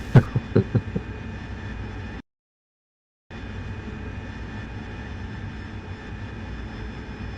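A steady engine drone of an aircraft in a DCS or War Thunder flight simulator runs throughout, broken by a short gap of silence, with a few soft knocks at the start.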